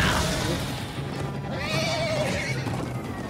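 Horses whinny and neigh in the Minecraft: Story Mode video game, a rising, wavering call standing out midway over a steady wash of background game sound, with faint hoof clatter.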